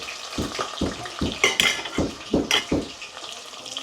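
Potatoes, cumin and curry leaves frying in hot oil for poha khichdi, a loud sizzle broken by about seven rhythmic stirring scrapes and clinks of a utensil against the pan, close up and without speech.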